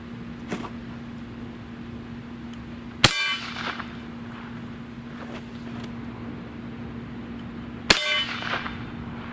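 Two-ball shotgun loads travelling near the speed of sound strike a steel plate, giving two sharp metallic clangs several seconds apart over a steady low background hum, with no talking.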